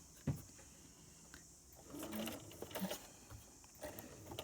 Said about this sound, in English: very carefully do a reverse stitch, and then you're just going to sew all the way